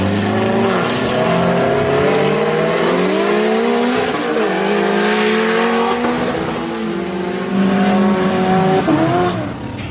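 A 600-horsepower Honda-powered Smart car drag racing a Corvette in a street pull, its engine revving loud and close through rising gear sweeps, each run broken by brief shift dips, with tire noise.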